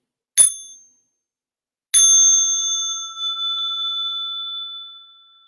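A small meditation bell struck twice: a short ding, then after a pause a second strike that rings out clear and bright, decaying slowly over several seconds in a quiet room.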